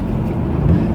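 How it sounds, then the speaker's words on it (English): Steady low road rumble of passing traffic heard from inside a moving car, a continuous engine and tyre drone with wind buffeting, no voices. "Oh, enough with the traffic already."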